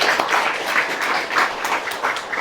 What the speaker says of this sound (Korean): 감동적인 강의를 해주신 우리 김은강 대표님께 다시 한번 큰 박수 부탁드립니다.